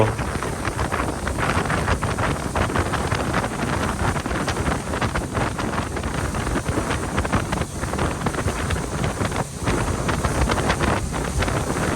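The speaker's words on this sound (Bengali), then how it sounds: "দক্ষিণ হাতিয়া থেকে স্পিডবোটে এই মেঘনা নদী পাড়ি দিতে আমাদের সময় লেগেছে প্রায় বিশ মিনিটেরও একটু বেশি" A speedboat crossing the wide Meghna river between South Hatiya and Chairman Ghat, with constant loud wind buffeting the microphone over a steady engine and water rush for the whole stretch.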